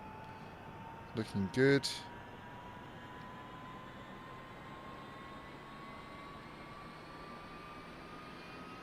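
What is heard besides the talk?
helicopter rotor spinning up in video game DCS World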